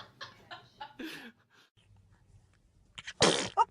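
A baby sneezes twice, each a short, sharp burst, the second louder and closer after a pause filled with faint small breaths and soft sounds.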